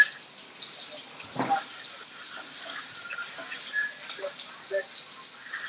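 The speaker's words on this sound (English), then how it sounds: "We're gonna go right into this extremely hot cast iron skillet." Faint, steady sizzle of steak searing in an extremely hot cast iron skillet, a soft hiss with scattered pops and crackles and no voices.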